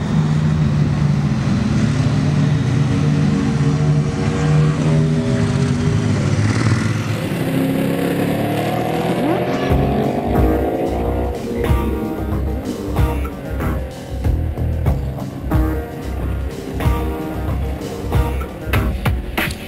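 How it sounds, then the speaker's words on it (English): Super Naked motorcycles lapping a race circuit, engines revving loudly and changing pitch through gear shifts, then a rhythmic pounding music beat takes over in the second half and largely masks the bikes. "we're going to ride the bikes around the circuit"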